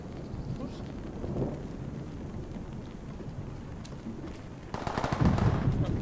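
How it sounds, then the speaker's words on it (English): Gunfire in the tactical shooter Ready or Not: a rumbling, rain-like background gives way to a close, loud burst of rapid shots near the end, with faint voices mixed in. "Oh, shot fired. Shot fired."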